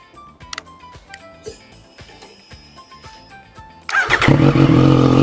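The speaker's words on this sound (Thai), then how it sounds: "ฟังเสียงเครื่องยนต์กันนิดนึงนะครับ" Rhythmic ticking and clicking settles into a sudden loud start of a 2021 Triumph Street Triple 765 RS motorcycle engine, which then runs with a rough, throaty idle up close.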